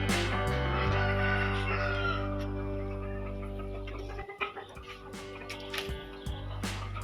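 Chickens crowd around spilled food scraps, clucking and calling as they peck, with a rooster-like call mixed in over a steady low mechanical hum that drops away midway.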